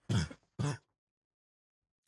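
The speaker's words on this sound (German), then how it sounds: "Ich denke die ganze Zeit, ich huste Blut, aber dann huste ich nur Spucke." Two short, close throaty coughs in quick succession, followed by silence.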